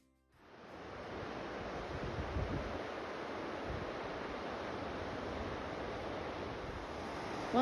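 Water near the Kreutzer Nature Trail, a steady broadband rush like rushing stream or surf, constant and moderately loud with no voices.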